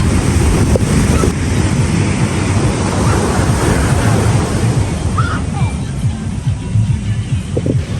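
Sea waves break on a beach at night, a dense continuous wash and rumble mixed with gusty wind buffeting the microphone, loud and close throughout.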